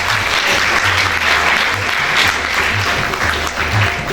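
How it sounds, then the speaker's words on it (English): A crowd at a school awards ceremony claps steadily for award-winning class 10 students, a loud, continuous wash of applause with no voices heard over it. "Give them a big round of applause."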